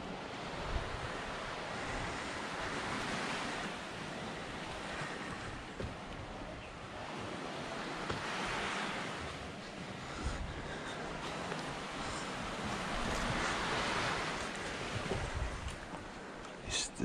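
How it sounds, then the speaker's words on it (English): Ocean surf rolling onto a Caribbean beach beside an abandoned resort, a steady broadband wash with swells peaking every few seconds, mixed with wind buffeting the microphone and no talk. "Beautiful ocean."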